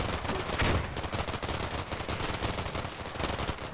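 Rapid suppressing gunfire in the video game Combat Mission: Black Sea, a dense run of overlapping automatic bursts and single shots at mid distance, steady and relentless throughout with no voices.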